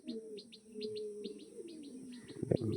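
Pigeons of an Andhra line coo and call near at hand, with light chirps and rustling over a steady background hum, rising to a louder burst of movement near the end.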